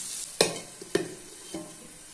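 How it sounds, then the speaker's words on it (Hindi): Mutton boti cooks in a pan over a low sizzle, with three distinct spoon scrapes and clatters as the pieces are stirred. "तो इसको इस तरह से बीच बीच में स्टर करते हुए कुक कर लेना है"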